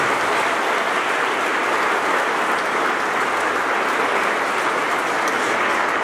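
Large crowd applauding at the traditional Virgin of the Snows festival in Coracora, a loud, continuous roar of clapping that stays even and dense from start to finish.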